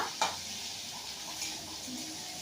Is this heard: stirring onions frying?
yes